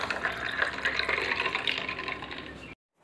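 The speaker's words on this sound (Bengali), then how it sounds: "এবার এর মধ্যে মৌরি ভেজা জলটাকে দিয়ে দেব।" Fennel-soaked water pours into a cold drink in a glass, a continuous close splashing trickle lasting a couple of seconds before stopping abruptly.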